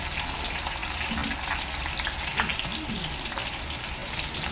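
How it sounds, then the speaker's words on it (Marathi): Sliced onions for chicken biryani frying in hot oil, a continuous close sizzle with faint stirring movements and a brief voice in the background. "हा कांदा जो आपण कापून ठेवला होता तो आता भाजून घेऊया चांगला"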